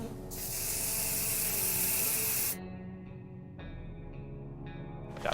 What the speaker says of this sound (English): Bug spray. Spray him in the face.